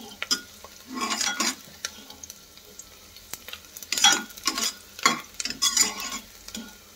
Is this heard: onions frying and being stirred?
yes